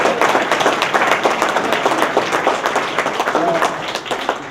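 An audience at a university presentation gives a sustained round of applause, a dense patter of many hands clapping at once, with voices talking over it.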